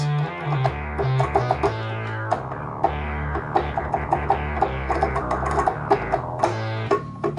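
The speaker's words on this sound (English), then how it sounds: "the dry signal on this synth sounds a bit like this" A dry, unprocessed synthesizer plays a busy lead line with staccato notes over a sustained bass, no reverb or effects, no voices.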